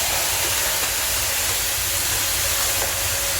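Steady, broadband hiss of steam filling a sauna, continuous and fairly loud with a low rumbling undertone, no voices.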